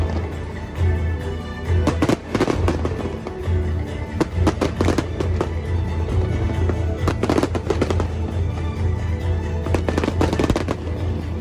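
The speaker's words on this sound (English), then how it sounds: "The city transformed into a wonderland of fireworks, painting the sky with a mesmerizing display." Dense, continuous crackling and popping of Lunar New Year fireworks over Singapore, with rapid bursts and thuds layered throughout and voices faintly underneath.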